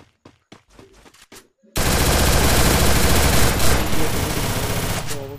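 Gunfire in a shooting video game: a few quick separate shots, a brief pause, then a loud, sustained burst of rapid automatic fire that continues to the end.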